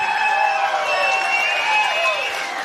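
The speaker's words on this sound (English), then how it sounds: "Give him a big round of applause." Crowd at a Big Beatdown Promotions fight night cheering and applauding Stewart Nicoll after his main event win, a dense steady roar of voices and whoops throughout with no single clear voice on top.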